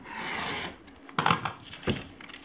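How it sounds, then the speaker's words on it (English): A rotary cutter rolls along a ruler edge, trimming quilting fabric triangles on a cutting mat: a close, steady raspy scrape for about half a second, followed by a few sharp taps and knocks as the ruler and fabric are handled, with no talking. "because these are so big, I'm actually going to use my rotary cutter. And I'm going to line this up. And I'm just going to trim it"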